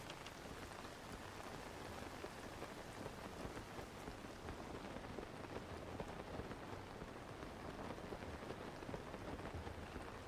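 Rain in the video game Zelda: Tears of the Kingdom, a steady, even downpour hiss with dense patter and no breaks, faint and continuous throughout.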